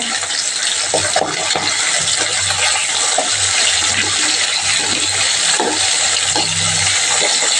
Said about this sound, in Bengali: ভাজাটা, পাবদা মাছ ভাজা চলছে।